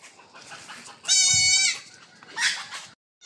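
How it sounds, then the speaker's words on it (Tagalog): A goat from Pangasinan gives a loud, close bleat, followed a moment later by a second, shorter cry, with quieter rustling in between. "Ayan po yung ano, yung galing ano, galing Pangasinan na kambing."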